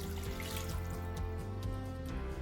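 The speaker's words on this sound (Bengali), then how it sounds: "এবার আমরা ঠিক 2 কাপ জল দেবো। আমি মাটির ভাঁড়ে ইউজ করেছি জল দেওয়ার জন্য।" Water poured from a clay cup into a cooking pot for chicken pulao, a close, bubbling trickle with a rhythmic glugging that runs steadily throughout.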